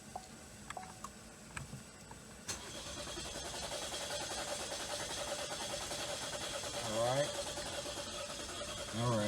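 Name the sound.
car engine cranking for a long time before starting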